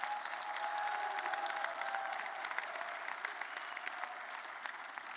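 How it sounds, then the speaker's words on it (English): A crowd applauds for a university men's and women's basketball team at a press conference, a dense, steady wash of clapping from a large group that holds at an even level throughout. "How about a round of applause for them?"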